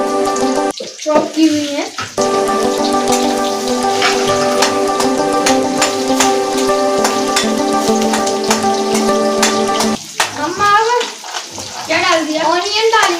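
Green chili dropped into a hot pan sizzles steadily in a continuous frying hiss, with bursts of speech over it and a brief pause near the end.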